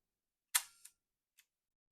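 A Fuji GW690 medium-format film camera fires its shutter: one crisp, close mechanical clack, a quick secondary click, then a faint tick a moment later in an otherwise silent room.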